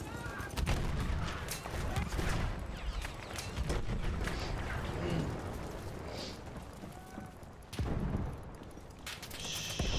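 Machine gun fire in Destiny 2 rattles in dense, continuous bursts amid battle noise, fairly loud and close, with brief pauses and sharp transients throughout.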